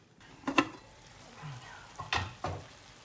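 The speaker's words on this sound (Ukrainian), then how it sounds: "І тепер додаємо їх до нашого рагу" Vegetables dressed with soy sauce are tipped into a sizzling vegetable ragout with cutlets, bringing a few sharp utensil clatters and scraping stirs over a steady, low frying sizzle.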